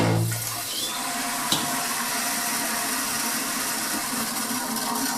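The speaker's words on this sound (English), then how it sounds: "Time to flip on some water here." Water rushes steadily at full pressure through the supply pipe into a toilet being refilled, a loud, continuous hiss that holds even from start to finish with one small knock partway through.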